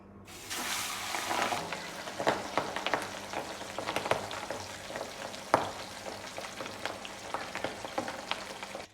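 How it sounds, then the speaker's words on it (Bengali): Pabda fish frying in hot oil in a pan, giving a steady, dense crackling sizzle with sharp pops and spits scattered throughout, close and continuous for the whole stretch. "তেল গরম হয়ে গেছে, মাছগুলো ভেজে নিচ্ছি।"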